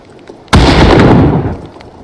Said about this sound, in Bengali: কিন্তু পরে দেখি গ্রেনেডটা ফাটছে